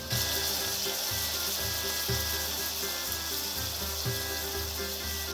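Short grain Japanese white rice sautés in garlic brown butter in a pan, giving a steady close sizzle with faint stirring scrapes and soft periodic thumps throughout.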